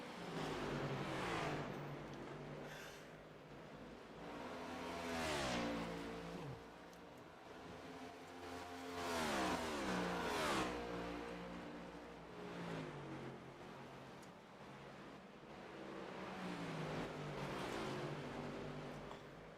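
NASCAR Next Gen race cars roar around Nashville Superspeedway in a racing video game, engines rising and falling in repeated waves as cars pass, loud and continuous.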